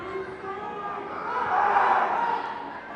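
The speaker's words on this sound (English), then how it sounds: "A little yelling by the Bedford home crowd from the high school kids, and Charlie misses the free throw." High school kids in the Bedford home crowd at a boys' basketball game yell in a rising, sustained roar that swells midway through, filling a gym.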